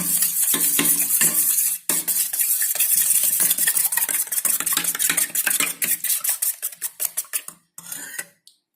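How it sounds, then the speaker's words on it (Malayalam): A spoon beats eggs with salt in a bowl, producing rapid, rhythmic clicking and scraping close up that grows choppier and then stops near the end, with no voices. "ഉപ്പിട്ടിട്ട് നന്നായിട്ട് ബീറ്റ് ചെയ്ത് കൊടുക്കാം സ്പൂണ് വെച്ചിട്ട്"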